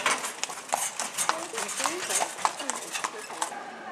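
Horse walking on rocky ground in a Jordan canyon, hooves clip-clopping in a steady, close rhythm, with people talking nearby.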